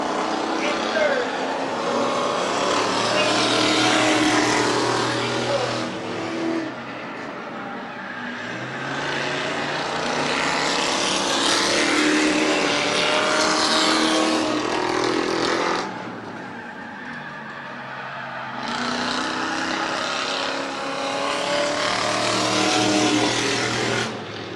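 Race cars lapping Midvale Speedway, a loud, sustained engine roar that swells and eases in long waves as cars pass, with a voice announcing over the noise throughout.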